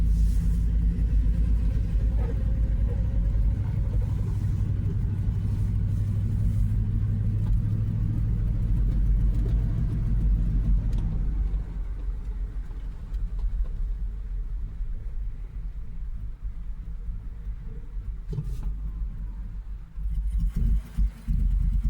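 A Hummer H2 with a bad encoder motor drives along, its engine giving a loud, steady low rumble that eases slightly partway through, with a few knocks and clunks near the end and no speech.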